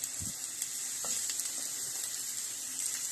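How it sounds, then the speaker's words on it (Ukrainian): Eggplant slices fry in hot oil in a preheated skillet, a faint continuous high hiss with a couple of soft knocks early on, quiet and even throughout with no voices. "Налили олійки, сковорідочка вже розігрілася. І викладаємо баклажани."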